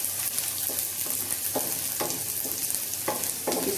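Chopped ginger and garlic fry with browned fenugreek seeds in a pan for a special khichdi, giving a steady close sizzle broken by several brief bursts of stirring and spattering.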